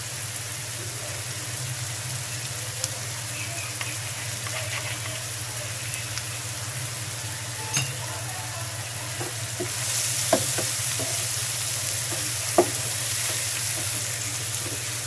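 Coconut and shrimp frying in a pan, with a steady close sizzle and occasional light scrapes from stirring throughout.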